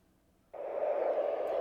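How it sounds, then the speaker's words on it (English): Baby white noise machine switching on abruptly after a moment of near silence, then playing a steady, even hiss at moderate loudness with no speech. "And then I have the white noise machine."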